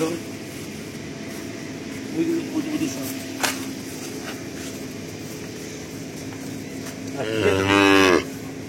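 A young calf moos once, near and fairly loud, near the end, after a stretch of outdoor farm background noise with faint voices.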